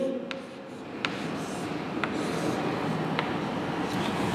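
A marker writes on a classroom board with short, regular squeaky strokes over a low background hum.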